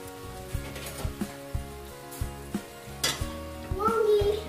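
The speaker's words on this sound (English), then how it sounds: "So I'm adding the blended pepper and the onion." Blended pepper and onion added to a pot and stirred while making abacha (African salad), with a bubbling sizzle, repeated scraping spoon strokes against the pot, and louder frying toward the end.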